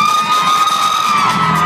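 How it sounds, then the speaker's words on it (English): A crowd cheers loudly at a kids' performance, sustained shouting and whoops with music tones running underneath, close and full for the whole moment. "Clap those hands. Clap those hands. Make some noise out there."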